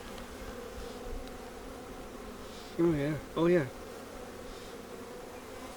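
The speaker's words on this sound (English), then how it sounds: "these guys are just taking care of the young bees, giving them pollen and nectar to get them to grow" Honey bees buzz steadily around an open hive frame of brood at a conservation area, a soft continuous drone under brief bursts of a nearby voice.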